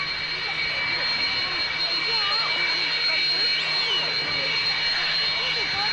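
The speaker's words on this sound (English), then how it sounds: "While the Sukhoi taxiing out, just remind you, Sukhoi 27 test pilot's back" A Sukhoi Su-27 jet fighter taxis out at the 1993 Coningsby airshow, its engines giving a steady loud whine with a high tonal edge and a broad rushing roar. A voice talks over it.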